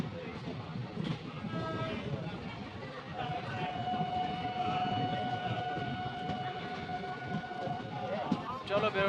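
Inside a crowded, moving passenger train, a steady rumble of rolling carriages runs under a dense murmur of passenger voices, with a long tonal whine that holds through the middle.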